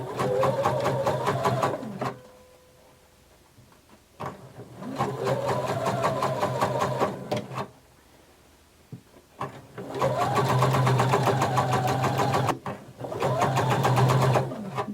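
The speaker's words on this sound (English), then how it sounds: "with your presser foot edge against the edge of your fabric, you're going to sew all the way around" A sewing machine runs a seam around the edge of fabric, with the presser foot edge lined up against it. It stitches in steady, close bursts of a few seconds each, separated by short pauses.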